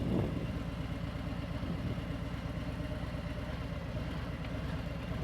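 A motorcycle engine chugs at low speed with the clutch engaged, a close, steady low-pitched pulsing thump that holds an even rhythm throughout, heard alone at a quiet level.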